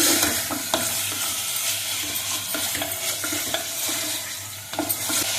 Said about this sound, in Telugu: ఇప్పుడు మటన్ వేస్తున్నాను. బాగా కలుపుకోవాలండి.